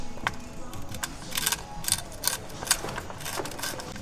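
A flathead screwdriver loosens a hose clamp on the intercooler piping of an Audi RS3 8V, producing close, quick metallic clicks and ratcheting ticks in irregular bursts without talk.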